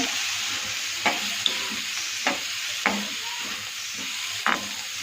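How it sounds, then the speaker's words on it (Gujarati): Cumin seeds, curry leaves and onion sizzle steadily in hot oil while karela shaak is prepared, with a continuous frying hiss and several brief stirring scrapes near the pan; no one speaks. "તેલ ગરમ થઈ ગયું છે. આપણે જીરું નાખી દઈએ, મીઠી લીમડી નાખી દઈએ, ડુંગળી નાખી દઈએ."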